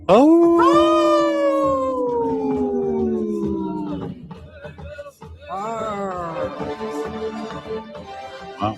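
People imitate wolves in two long, loud sliding howls, the first a sustained wail that slowly drops in pitch, the second joined by more voices howling together.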